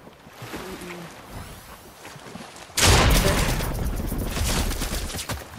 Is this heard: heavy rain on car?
no